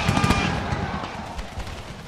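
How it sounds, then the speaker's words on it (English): Cannons firing on fortress walls in an American Civil War strategy game, a few sharp reports near the start followed by scattered distant shots and rumbling, with faint talk underneath. "Ready to open fire on the walls."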